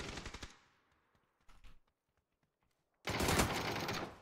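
Automatic gunfire in the video game PUBG, a loud rapid burst that fades out, a short quieter volley midway, then another sustained loud burst of shots near the end.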